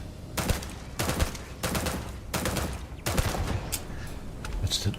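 Rapid bursts of automatic turret gunfire in Starfield, with four loud clusters of shots about a second apart, then a quieter tail with a few faint pops.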